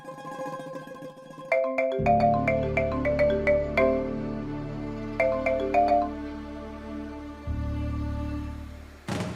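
A melodic phone ringtone plays on its own, a bright repeating chime pattern over a steady low backing, loud and close.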